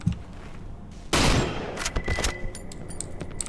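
Gunfire in the horror game Cry of Fear, a loud close burst followed by a rapid cluster of shots and sharp echoing cracks that trail into quieter clicks and rattles.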